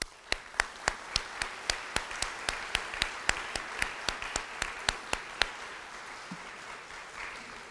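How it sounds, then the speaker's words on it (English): Sparse applause at a 2014 donor appreciation event: a few distinct, evenly spaced claps ring out in a steady rhythm for about five seconds, then stop, leaving quiet room tone. "let's give them a round of applause"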